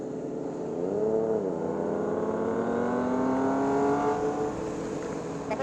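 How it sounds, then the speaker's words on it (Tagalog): A car passes on a night mountain road along Marilaque, its engine note swelling and climbing in pitch as it accelerates past, a smooth droning hum that stays loud throughout. "Meron sasakyan."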